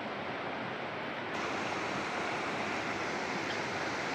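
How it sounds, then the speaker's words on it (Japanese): A river flows right beside a campsite, a broad, steady rushing wash of water that holds evenly throughout and grows slightly fuller partway in. "すぐ横に川が流れてて"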